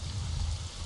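Cartoon rain sound effect, a steady dense patter of falling water with heavy low rumble, loud and continuous throughout with no voices.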